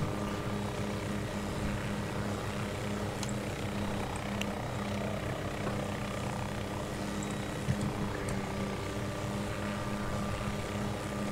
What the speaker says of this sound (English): I hear this helicopter.